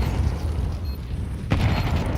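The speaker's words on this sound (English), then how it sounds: "Smoke and a nade going to go in anyway." A single deep boom from a grenade detonating during a professional Counter-Strike match at IEM Chengdu 2024 lands midway, a low rumbling burst over steady background game ambience.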